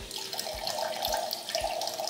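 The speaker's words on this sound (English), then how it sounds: "Now let's hit the power button for continuous water flow." A rechargeable automatic water dispenser pours a continuous stream, a steady splashing flow into a container with a low pulsing rhythm, close and alone.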